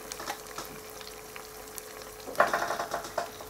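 Batter-coated kiwi slices fry in a pan, a quiet background hiss before a louder burst of crackling sizzle flares up partway through and continues in popping spurts.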